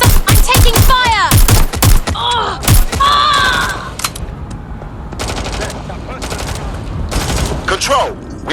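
Gunfire in the open-world game Watch Dogs Legion, loud close bursts of rapid shots in the first half, then scattered volleys continuing, with voices shouting among the shooting.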